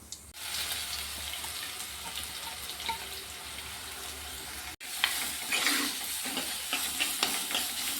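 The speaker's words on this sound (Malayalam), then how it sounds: "ഇതിൻ്റെ പച്ചമണം മാറുന്ന വരെ ഒന്ന് ഇളക്കി കൊടുക്കാം" Chopped ginger and garlic frying in hot oil with cumin while being stirred, a continuous close sizzle with brief stirring scrapes and a short break midway.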